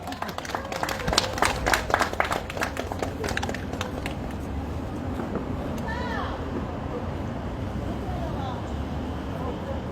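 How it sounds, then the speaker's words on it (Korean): Audience at a candlelight rally against THAAD deployment in Gimcheon claps in welcome, a burst of clapping early that thins into crowd murmur with voices talking in the background. "여러분 뜨거운 박수 부탁드리겠습니다"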